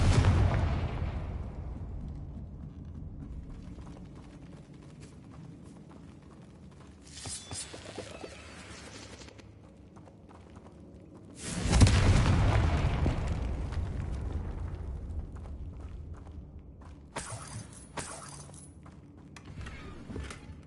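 Confringo fire-spell blasts in Hogwarts Legacy: a loud booming explosion opens, then fades to low rumble before a second heavy blast hits near the middle, trailed by crackling bursts and smaller pops.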